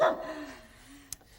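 A dog at a vet's office in a children's TV show gives one short bark at the start, followed by a faint trailing whine and a brief click, with no speech.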